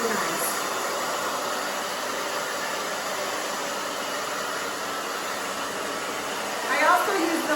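A steady blow dryer whooshes continuously at moderate volume, a flat airy roar that holds throughout with a brief shift near the end.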